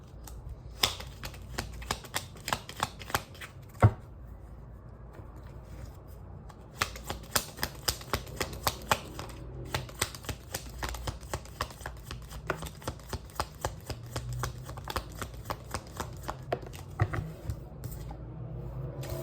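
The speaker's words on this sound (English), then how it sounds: "Shuffle for the water signs" Tarot cards shuffled by hand in a steady run of crisp riffles and flicks, with a brief pause near the start, close and moderately loud with no talking.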